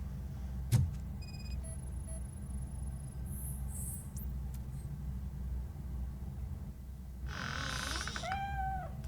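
Fortune, a cat in the video game RoboCop: Rogue City, gives a couple of short high meows near the end over a steady low background hum, with a few faint chirps and tones earlier and no talking.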